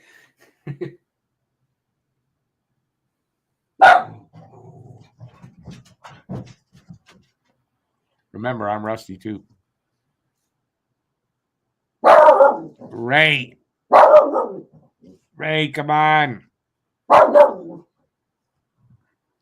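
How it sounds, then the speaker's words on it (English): A dog barks in short separate bursts, close and loud, while a person speaks briefly between the barks. "no barking, please"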